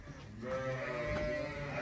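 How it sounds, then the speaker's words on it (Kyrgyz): An Afghan-breed sheep bleats close by in one drawn-out, wavering call with no talk over it. "Мына койду да караңыз."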